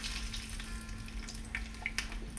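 A soft, continuous sizzle of curry leaves frying in hot oil, with a few faint crackles and pops, close and fairly quiet.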